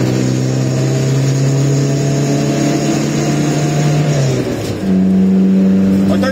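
Loud, close drone of an Iveco Daily 35-8 van engine through a custom exhaust, held at high revs, then dipping and settling at a new steady pitch, with no talking.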